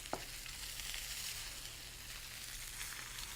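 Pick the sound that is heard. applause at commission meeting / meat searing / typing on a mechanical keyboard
meat searing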